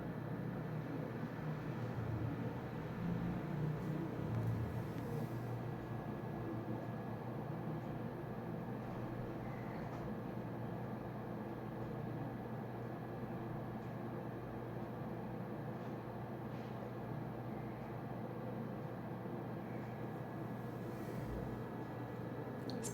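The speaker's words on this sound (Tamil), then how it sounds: "இப்போ அந்த மாவை கொஞ்சமாக போண்டா மாதிரி போட்டுக்கலாம்." Bonda batter deep-frying in hot oil in a kadai, giving a constant, dense sizzle that holds steady throughout without pause, fairly soft and close.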